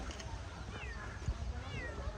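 A cat in Unity Park, Addis Ababa, gives a couple of soft, faint meows amid outdoor background noise, with a person talking nearby.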